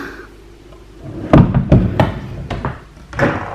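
Close wooden thumps and rattles as a bathroom bottom drawer is pulled open, with several knocks and a softer bump at the end.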